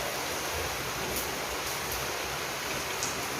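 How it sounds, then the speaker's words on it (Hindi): Heavy rain pouring steadily outdoors in the early morning, a dense, constant hiss with no breaks and no voices. "झमाझम बारिश शुरू हो गई है"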